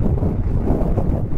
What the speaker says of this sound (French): Moi, j'ai un bon vent sur le côté.